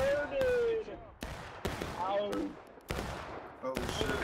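Musket volleys in the Civil War game War of Rights, a string of about six sharp, loud shots at irregular gaps, heard beneath overlapping shouting voices.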